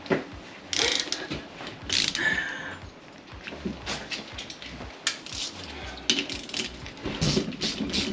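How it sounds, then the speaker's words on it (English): A torque wrench tightening bolts on a stock Toyota 4Runner IFS axle housing, repeated close ratcheting clicks in short bursts with metallic clinks, irregular rhythm, with no talking. "Let me take my device and torque them to 70 pounds."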